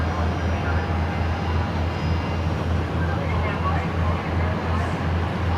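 A Jetstar airliner arriving at Brisbane Airport at night makes a steady low engine rumble, distant and continuous, with faint background chatter.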